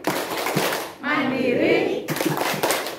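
Elderly participants at a community seminar perform a rhythmic group clap, a loud burst of synchronized clapping and chanting voices set between spoken calls from a host in an echoing hall.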